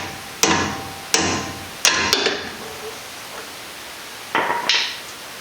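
A hammer strikes the bottom of a GMC Sierra truck's upper suspension part in sharp, ringing metallic blows, about six hits spaced roughly half a second to a second apart, close and distinct.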